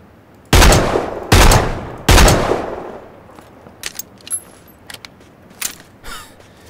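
Gunfire in PUBG Battlegrounds on the Miramar map: three loud, evenly spaced shots crack out in quick succession, followed by fainter scattered pops and metallic clicks.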